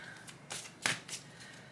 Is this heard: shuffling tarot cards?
yes